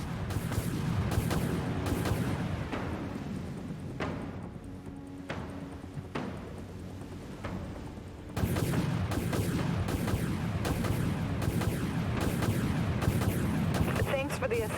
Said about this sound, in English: All silos launch missiles.